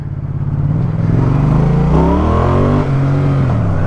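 A Yamaha XSR motorcycle engine revs up steadily and loudly as it is put into first gear and pulls away on an Istanbul street, its pitch rising, then briefly dropping around a gear change before holding a strong drone.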